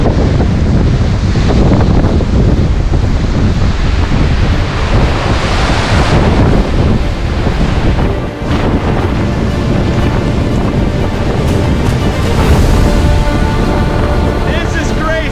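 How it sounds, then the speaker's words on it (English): Powerful Hurricane Helene wind in South Carolina roars and buffets the microphone continuously, with loud gusts surging and easing, and a muffled voice breaks through now and then. "Look how windy that is."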